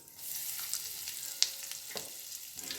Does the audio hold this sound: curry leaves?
yes